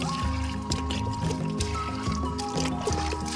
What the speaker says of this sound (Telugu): వీటికైతే వాటర్ పోయాలి ఇప్పుడు